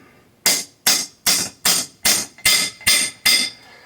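A hammer taps a bicycle fork and headset eight times in a slow, even rhythm, each strike a sharp, close metallic knock with a short ring and no talk.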